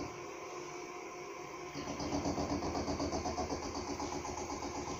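A Sieg SC4 metal lathe turns at a reduced speed, giving a steady mechanical whir with a faint rhythmic hum that grows louder and busier partway through and then holds even.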